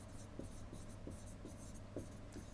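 Pen on paper as a short computer program is written out by hand, quiet scratchy strokes falling in a steady rhythm of small taps and scrapes over a faint background hum, nothing spoken.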